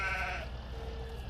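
A sheep bleats in Farming Simulator 17, one short wavering call up close over a low steady farm ambience.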